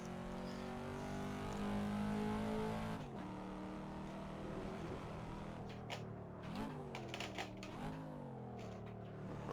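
Racing-game car engine, driven with a Fanatec Clubsport SQ V1.5 shifter, holds a steady high drone, then drops in pitch as the throttle lifts, with downshift blips and revs that rise again, continuous and loud throughout.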